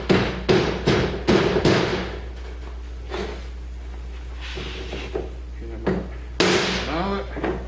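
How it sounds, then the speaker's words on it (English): Mallet pounding down the lining of a blacksmith forge base, a run of heavy dull thuds at first, then sparser knocks and scraping, with a person talking between blows. "we're going to pound this down"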